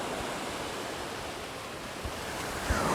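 Steady roar of sea surf rolling in at Pakiri Beach in spring, continuous broadband wash with light wind noise and small splashes, no voices.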